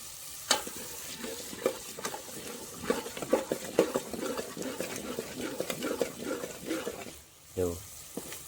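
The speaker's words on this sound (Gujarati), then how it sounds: "તો હવે ગાઈસ હલાઈ નાખવાનું છે આપણે." Onions and chili being stirred in a cooking pot, with continuous sizzling and frying and repeated scraping clinks of a spoon against the pot, close up, plus a short burst of voice near the end.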